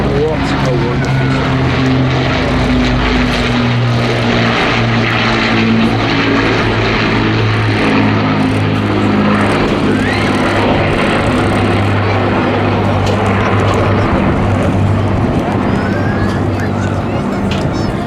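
An Avro Lancaster bomber of the Battle of Britain Memorial Flight drones overhead at Southport Airshow, its propeller engines a loud, sustained, throbbing roar that holds steady throughout.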